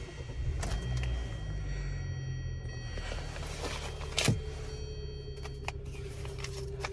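A 2014 Hyundai Sonata GLS starts up after the key goes into the ignition, giving a quiet engine hum with a couple of sharp clicks and a brief louder burst partway through.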